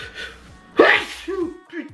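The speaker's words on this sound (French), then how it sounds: "je vais éternuer" A single loud, close sneeze bursts out mid-sentence during a makeup session, followed by softer breathy sounds as the person recovers.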